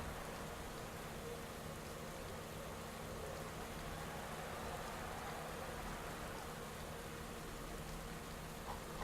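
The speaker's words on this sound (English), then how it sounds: "the rain could change things a little bit for this finish." Steady rain hisses through a bike race finish in the Pro Cycling Manager 2018 game, a dense even wash of falling drops that stays constant from start to end with no voices.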